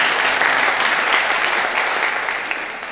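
A church congregation claps during a Christian sermon, a dense burst of applause that stays loud and even for a few seconds before slowly tapering off, with no speech over it.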